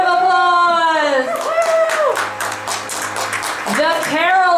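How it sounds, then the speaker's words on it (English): Audience at a Christmas show in a retirement community breaks into brief applause, a couple of seconds of scattered clapping that rises between a speaker's voice and fades as talking resumes. "give them a round of applause."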